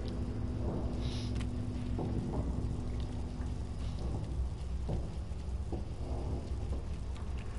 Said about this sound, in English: so it must be raining outside